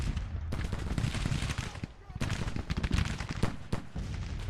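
Artillery and gunfire in the Civil War strategy game Grand Tactician, dense crackling volleys and booming shots rolling continuously, loud and layered, with a voice talking over it.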